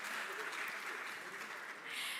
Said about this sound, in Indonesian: Boleh tepuk tangannya juga teman-teman